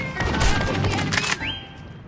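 Thermal sniper fire in a video game, a loud burst of sharp blasts crowding the first second and a half, then a ringing whine trailing off.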